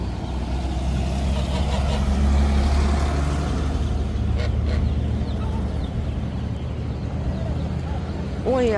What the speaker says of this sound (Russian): какие красивые петушки